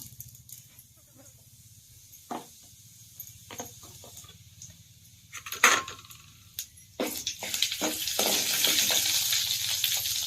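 Garlic and cumin dropped into hot oil in a pan for village-style palak sambar, starting with sparse clinks of a utensil, then a rising, steady close sizzle that swells loud toward the end.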